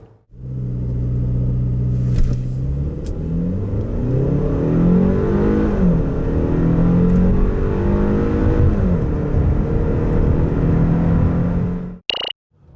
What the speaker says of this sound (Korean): 이 파워트레인을 기반으로 한 발진 가속 성능에 대해서도 한번 알아볼까요?